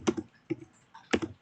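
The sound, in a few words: typing on a computer keyboard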